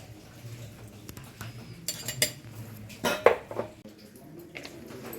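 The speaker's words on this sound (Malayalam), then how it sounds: "ഈ കൂട്ടുകളെല്ലാം ചേർത്ത് നല്ല പതുക്കെ ഇളക്കി വേണം നമ്മളിത് ചെയ്യാൻ കേട്ടോ" A utensil gently stirs a Kerala-style bitter gourd toran mixture in a pan, giving a few soft scraping clinks at irregular intervals, close and fairly quiet, with no talking.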